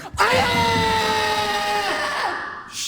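A drawn-out Taekwondo kihap scream, one sustained loud shrill voice holding for over two seconds before trailing off, close and alone.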